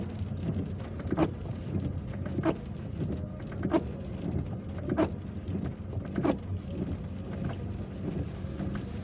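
Steady rain and wind noise fill a car stuck in a traffic jam in Algiers on a cold, rainy day, with soft periodic thumps, likely wipers, repeating about every second and a half.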